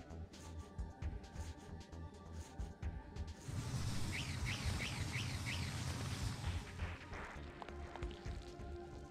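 Goose in Parasite Eve 2 giving a short run of about five quick honking calls over a low rumbling background, fairly faint and alone.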